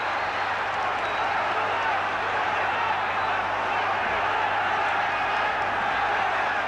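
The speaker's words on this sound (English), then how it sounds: "And this crowd now is on tiptoe with excitement behind me." Excited boxing crowd at the Johnny Famechon vs Jose Legra world title fight, a dense, steady roar of cheering and clapping filling the arena for several seconds, broad and continuous with no single voice standing out.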